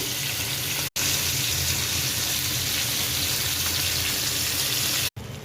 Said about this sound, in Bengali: মাছগুলো ভাজতে দিয়ে দিয়েছি